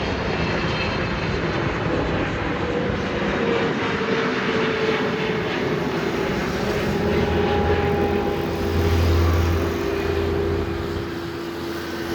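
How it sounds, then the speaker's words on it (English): A Saudi Boeing 777-300ER jet airliner takes off at Delhi Airport, its engines producing a powerful, sustained roar that swells and rumbles continuously, loud and fairly close. "So here's the 777-300 ER of Saudi straight from Jeddah."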